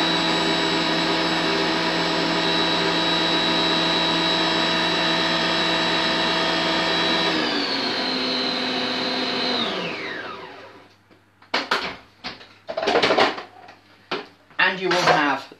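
A food processor whizzes pastry ingredients at full speed with a loud, steady motor whine. It then winds down, and a few clattering knocks of the bowl and lid follow.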